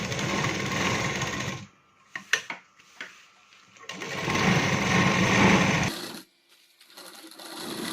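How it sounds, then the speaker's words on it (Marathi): A sewing machine stitches the side seams of a lined katori blouse in bursts: a long run of rapid whirring, a pause broken by a few clicks and handling knocks, then a second long run that stops before a last brief start. "आता साईड सगळे साईड शिवून घ्यायचे."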